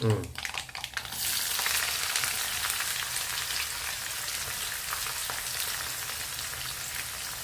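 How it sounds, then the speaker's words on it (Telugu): Onions and green chillies frying in a pan for semiya upma, with a loud clatter as they drop in at first, then a steady dense sizzle that carries on evenly close by. "ఉల్లిపాయలు పచ్చిమిరపకాయలు ఫ్రై ఒకటి ఫ్రై చేసుకోవాలి"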